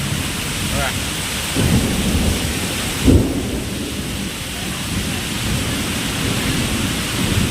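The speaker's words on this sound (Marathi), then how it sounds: "प्रचंड एक अर्धा तास झाला पाऊस पडतोय जोर जोरात" Heavy monsoon rain, the first of the season in Konkan, roars steadily close by as low thunder rumbles beneath it, with one brief louder crack near the middle.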